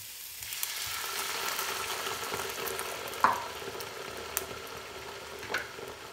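Pan of browned sweet potato chunks sizzling steadily after a splash of water, a soft continuous frying hiss with a few brief clinks and pops, fairly quiet and close, no voices.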